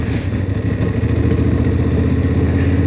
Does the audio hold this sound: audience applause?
no